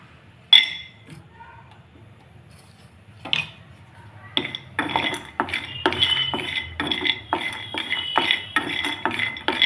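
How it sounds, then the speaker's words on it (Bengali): Almonds are dry roasted in a hot wok, opening with a couple of faint clinks before settling into steady, rhythmic rattling and scraping as the nuts are stirred against the metal. "একটু ড্রাই রোস্ট করে নেব। গ্যাসটা জ্বালিয়ে নিই। কড়াইটা গরম হোক। প্রথমে আমন্ড বাদামগুলো দিয়ে দেবো।"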